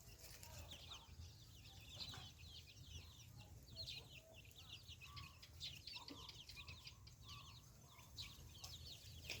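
Free-range chickens cluck softly and repeatedly at a distance, a steady scatter of short calls over a low background hum, with a wing flap or two and no talking.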